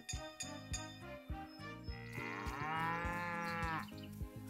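Cow mooing in the farming video game Story of Seasons: Pioneers of Olive Town, one long drawn-out low moo rising over cheerful background game music with soft clinks.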